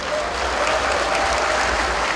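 A large crowd at a national representatives' rally for reviving neighborhood shops applauds presidential candidate Moon Jae-in, a dense, even wash of clapping that holds steady and loud from start to finish without speech.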